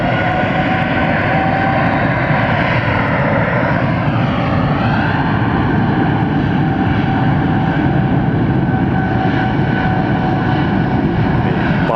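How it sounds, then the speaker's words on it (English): A Delta airliner, the Spirit of Atlanta, descends toward Hartsfield-Jackson airport with a loud, steady engine roar that fills the whole stretch, its tone sweeping slightly as it passes overhead. "We got that airplane going down. This is the Spirit of Atlanta Delta."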